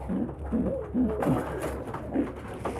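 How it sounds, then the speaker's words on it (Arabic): A pigeon being handled for diarrhea treatment coos close by in soft, low, repeated throaty notes, several short coos in a loose rhythm over faint background noise. "نجيب الحمامة"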